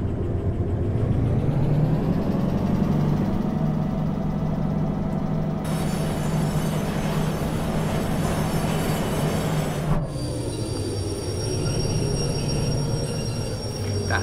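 A locomotive in the Derail Valley train simulator builds power with a steady, loud rumbling drone and layered mechanical hum, rising in intensity before a brief break near the end, with no talking.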